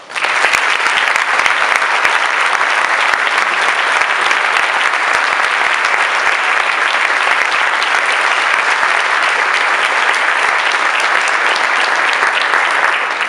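Loud, dense applause from an evening audience at a Ride for Missing Children event welcoming a speaker, sustained evenly for over thirteen seconds before fading at the end.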